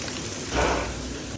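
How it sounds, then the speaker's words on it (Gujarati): Rain falls steadily outside, a dense, even hiss of drops that swells briefly in the middle of a short stretch. "બહાર તો વરસાદ ચાલુ છે મસ્ત"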